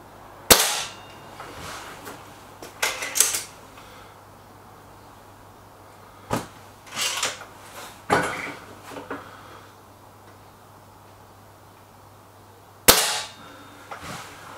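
Air rifle firing JSB pellets outdoors, a handful of sharp isolated cracks spaced several seconds apart, some followed by faint mechanical clicks of reloading, over a low steady background hum.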